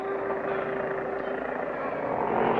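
A propeller airplane takes off in a 1959 cartoon, its engine a steady, loud droning roar that stays constant and swells slightly toward the end.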